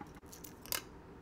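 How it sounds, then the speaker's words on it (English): Scissors cut through printed cardstock in a few quick, crisp snips close to the microphone, with no talking. "When it comes out, you want to cut these guys out."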